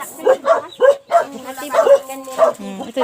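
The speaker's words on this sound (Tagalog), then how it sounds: "Ay, matapang yung aso." A dog barks several times in short bursts, fairly close, with a person's voice mixed in between the barks.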